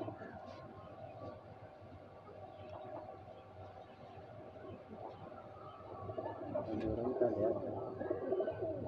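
A pair of Dobaz pigeons gives faint, low cooing close by, rising a little toward the end, under quiet background noise.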